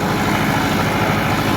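An ATS 290 tractor works with a rotavator, producing a constant loud, rough engine roar with a gritty, even texture throughout and no voices.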